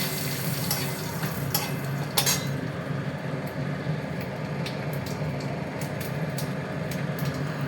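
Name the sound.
dry red chillies, fennel, cumin and bay leaves frying in oil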